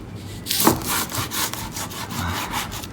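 A knife cuts through a firm kimbap roll with a few scraping, rubbing strokes, close and fairly steady, with no talking.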